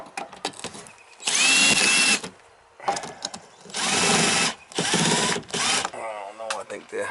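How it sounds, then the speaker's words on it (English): Power screwdriver driving at a stripped screw during an outdoor shower repair at a summer cottage, with several loud whirring bursts separated by pauses and close-up handling noise, and someone speaking between them. "I'm gonna have to give it the old screwdriver action."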